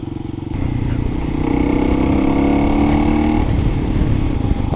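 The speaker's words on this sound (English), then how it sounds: "Kind of liking this Delcovic muffler on this too. It's not obnoxious, but you can hear it" Kawasaki KLX 300 dirt bike fitted with a Delkevic muffler, its single-cylinder engine revving up and holding a steady, moderately loud drone close by, with some clatter and no talk.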